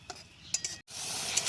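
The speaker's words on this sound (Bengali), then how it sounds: "নুন দিয়ে ভালো করে কষিয়ে নেব মশলাটাকে।" Fennel, ginger, green chili and onion paste sautés with salt in a pan, a soft sizzle with a few light scrapes and taps of a spatula stirring, then a brighter sizzle building near the end, quiet and close.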